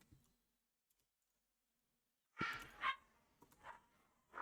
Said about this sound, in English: my dogs are going at it.